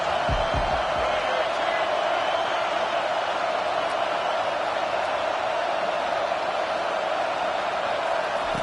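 A home crowd roars continuously in the College Football 25 video game, a dense steady wash of stadium cheering with no pauses.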